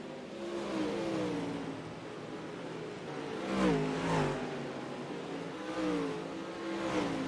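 Dirt late model race cars roar around a dirt track, a sustained engine drone with rising and falling revs as cars pass, swelling loudest midway through as several go by side by side.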